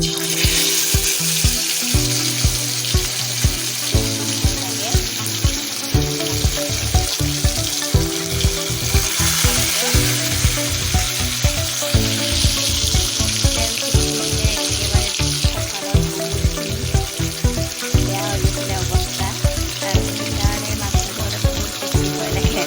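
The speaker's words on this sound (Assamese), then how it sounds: "এতিয়া মাছখিনি মই ভাজিব ওলাইছোঁ।" Steady hissing sizzle of fish frying in a hot wok, continuous and close, with low rhythmic background thumps running throughout.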